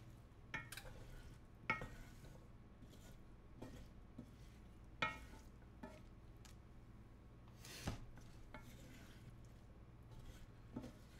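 Onions sizzling in a skillet with Cajun-style sausage, shrimp and vegetables, stirred now and then with scattered scrapes and clacks over a faint steady fry, quiet and close, with no talking.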